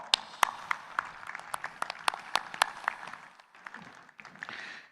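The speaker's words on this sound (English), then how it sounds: "they certainly deserve a huge round of applause" Scattered applause from an audience at a school prize-giving ceremony, a few sharp individual claps standing out over a thin patter that fades and briefly swells again, moderately close, with no speech.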